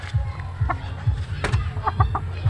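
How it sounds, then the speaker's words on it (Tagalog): A rooster clucks nearby in short, repeated calls over a low, rhythmic thumping in the background. "yung tandang"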